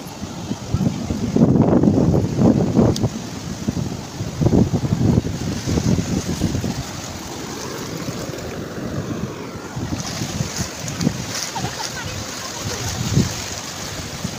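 Gusting wind at Diveagar beach roars steadily across the microphone, mixed with the wash of surf breaking nearby, loud and continuous throughout.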